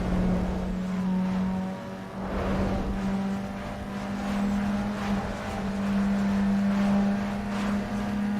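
Car engine in the racing game Need for Speed Underground 2, holding a steady high drone with a strong, even tone and small swells in revs throughout, loud and close with no talk.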